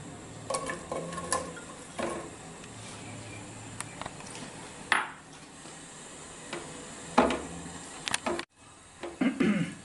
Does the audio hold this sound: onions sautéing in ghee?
yes